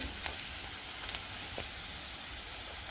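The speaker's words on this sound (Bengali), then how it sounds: "এই যে পেঁয়াজটা আর কি ভাজি ভাজি করে নিতেছি তারপরে আর কি ঢেঁড়সগুলো দিয়ে দেবো" Onions sizzle in a pan as the first step of an okra bhaji, a soft steady frying hiss with a few faint clicks and no voices.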